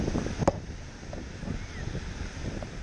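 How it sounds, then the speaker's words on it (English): Ocean surf washing in at low tide on an outer sandbar, a steady broadband wash with wind rumble across the microphone and one brief sharp knock near the start. "The ocean's not as angry as I was expecting it to be. You see some good waves, but it's workable."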